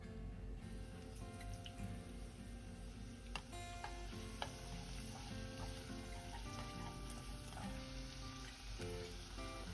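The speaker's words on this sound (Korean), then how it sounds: "줄기를 먼저 볶아줍니다." Vegetable stems stir-fry in flavored oil in a frying pan, a steady close sizzle running throughout with occasional light clicks and scrapes of the utensil.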